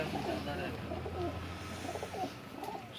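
Rare pigeons belonging to Ustad Allah Dutta coo in low, repeated murmurs at close range, set against a steady broadband hum and background noise with no speech.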